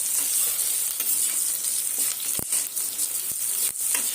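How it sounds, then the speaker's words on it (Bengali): Potatoes and onions frying together in a pan, giving a continuous bright sizzle with a few sharp scraping knocks from stirring. "আলু পেঁয়াজটা অলমোস্ট ভাজা ভাজা হয়ে এলো।"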